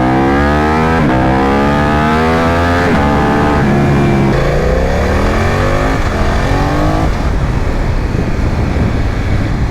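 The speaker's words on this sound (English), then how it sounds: "Dude, this bike's so chill. It's so compliant and just happy cruising." A BMW F900 XR motorcycle cruising, its engine loud and close with a steady drone and repeated gear-change steps in pitch, then settling under wind rush.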